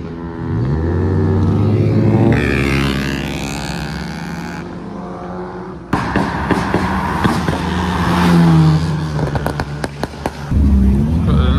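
A green Mazda MX-5 rolls in to park at a Japanese car meet, engine rumbling and revving near the microphone with shifting pitch, amid other cars' noise and sharp pops.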